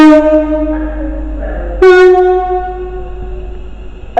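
At Crewe station, a train sounds its two-tone horn. Two long, loud blasts come in sequence, the second starting after a brief gap. Low engine rumble sits underneath, and the horn fades at the end.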